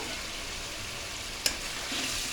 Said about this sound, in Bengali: আলু এখন কষানো হচ্ছে